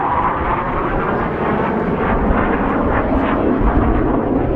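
A military jet roars past at an airshow in Scotland, a loud, broad, steady engine rush filling the air with no talk over it.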